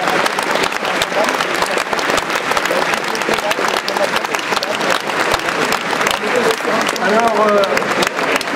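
A festival audience applauds loudly and continuously at an awards ceremony at the Utopiales science-fiction festival in 2017, dense clapping filling the hall while a voice speaks over it near the end.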